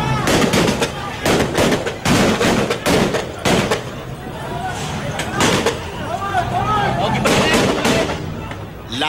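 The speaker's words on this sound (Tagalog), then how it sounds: "Dito na umalingaw-ngaw ang sunod-sunod na putok ng baril." Rapid, successive gunshots ring out as a SWAT team storms a compound during a violent demolition of about 400 houses, sharp loud bursts clustered over a crowd's shouting and babble.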